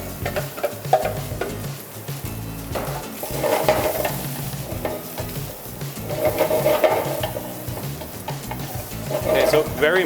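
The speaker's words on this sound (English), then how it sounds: "He's got a nice sizzle to it." Vegetables sauté in oil in a hot pan, a steady close sizzle and frying hiss with occasional stirring scrapes and light utensil clinks, continuing throughout with no talk.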